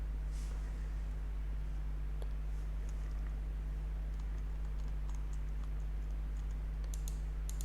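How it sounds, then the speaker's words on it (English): A computer keyboard with sticking keys is typed on in scattered faint clicks and taps above a steady low electrical hum. "my keyboard is getting stuck."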